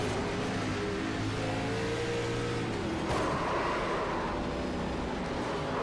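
An onboard race car engine in a simulated race at Darlington Raceway drones with a steady, close harmonic whine, its pitch shifting as the throttle is worked, then a brief rougher burst midway before settling back.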